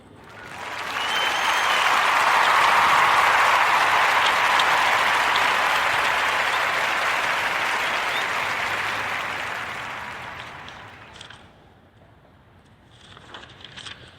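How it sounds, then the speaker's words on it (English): A dense round of applause rises quickly, holds as a loud, steady wash of clapping for several seconds, then fades out, followed by a brief quiet stretch with faint residual sounds. "let's give a Warm Narrative Podcast round of applause to our sisters, Devon Reeves and Jessica Mayer"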